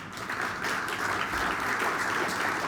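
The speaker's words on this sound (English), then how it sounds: "give them a quick round of applause" A crowd applauds steadily, a dense wash of many hands clapping at moderate volume with no voices standing out.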